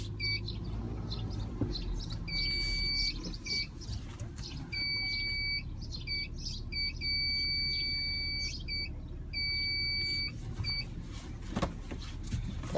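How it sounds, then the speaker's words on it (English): Repeated electronic alarm beeps in short rapid bursts, fairly loud over a steady outdoor rumble with faint birdsong. "now that the beeping is done and over with"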